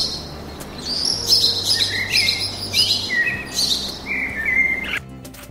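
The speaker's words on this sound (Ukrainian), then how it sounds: "Цю агресивність сорока Баскервілі поясняють тим, що птахи захищають своє потомство" Australian magpies in Australia call in a series of bright, warbling chirps and descending whistled notes, fairly close and clear above a soft low background hum.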